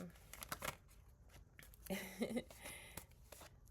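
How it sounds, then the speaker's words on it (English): Soft, quiet tarot card shuffling in short riffling bursts with a papery flutter, close by, mixed with faint handling noises. "shuffling with my other hand"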